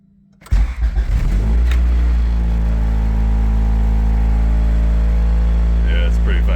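An Acura Integra engine with new motor mounts starts and settles into a steady, loud idle, a deep continuous rumble with a rattling vibration running throughout.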